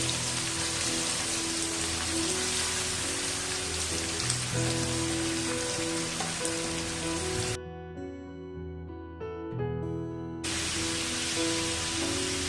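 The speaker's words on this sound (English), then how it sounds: "these slices now I'll be putting them into this oil and we'll have to fry them till they are nice golden brown in color" Sliced onions fry in hot oil for chicken biryani with a dense, steady crackling sizzle, close and loud. The sizzle cuts out for a few seconds midway, leaving quieter tonal background sounds, then returns.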